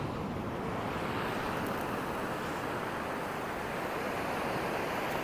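Ocean waves wash onto a beach in a continuous broad roar of surf, steady and full without breaks, with wind-like rushing mixed in and no voices.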